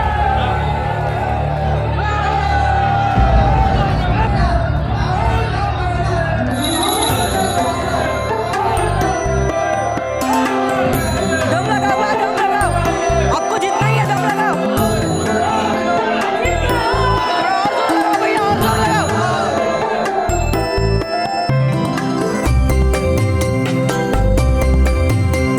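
Dense crowd murmuring with rising cheers at a royal palace event in a Maharana Pratap period drama, a loud continuous wash of many voices with music-like tones threaded through for the full stretch.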